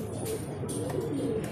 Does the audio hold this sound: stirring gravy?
no